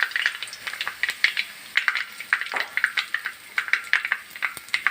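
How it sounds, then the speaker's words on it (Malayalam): Curry leaves stripped from three sprigs into hot coconut oil with popped mustard seeds for a Kerala roasted-coconut chicken curry, giving a steady crackling sizzle with frequent sharp pops, close and fairly loud, with no talking. "ഒരു 3 തണ്ട് കറിവേപ്പില ഊരിയിടാം."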